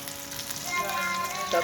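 A second batch of chicken fries in hot oil with a steady, close sizzle and bubbling that swells slightly, ending with a brief stir.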